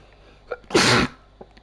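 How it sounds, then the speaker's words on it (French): A single loud, close sneeze bursts out sharply and ends within about a third of a second, preceded and followed by faint quiet sounds. "Et pardonnez-moi, ça a éternué d'un coup."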